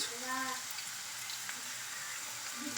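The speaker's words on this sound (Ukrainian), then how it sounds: "жаримо цибульку" Onion sizzles softly in oil in a pan while cooking plov, a faint steady crackle beneath brief bits of talk.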